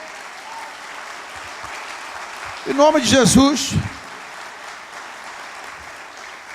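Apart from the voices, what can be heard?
applause from church congregation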